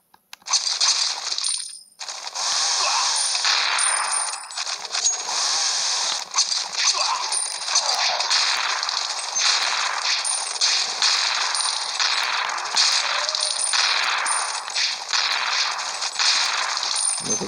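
Dense, nonstop bursts of rapid gunfire, like automatic weapons in the video game Zombie Age 3, loud and sustained throughout with no talking.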